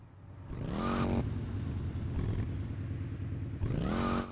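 Motorcycle engine in Grand Theft Auto: Vice City, a steady mid-level drone that swells as it revs up near the start, holds, then rises again near the end, with no talk.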